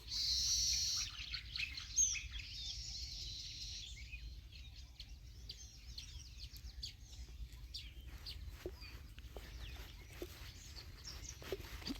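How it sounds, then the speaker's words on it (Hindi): Birds chirp and call in an open forest setting, with peacock calls among them, a loud high trill at the start followed by scattered tweets over a low ambient rumble. "चारों तरफ से आवाज़ें आ रही हैं पक्षियों की"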